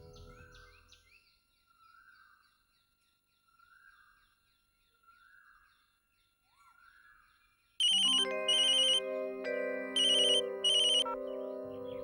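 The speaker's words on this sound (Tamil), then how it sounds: "வந்தனா, எனக்கு ஃபோன் போட்டு கொடுமா" A phone rings in a Tamil television serial as a call is placed, starting loud and abrupt after quiet background music, with several repeated bursts of ringing.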